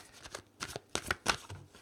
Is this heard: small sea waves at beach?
no